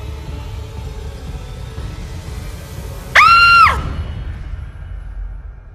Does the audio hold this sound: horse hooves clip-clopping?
no